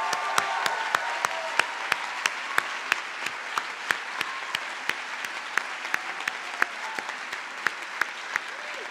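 At a school class day ceremony, an audience applauds to welcome a speaker, with distinct individual claps standing out over a softer, steady bed of clapping.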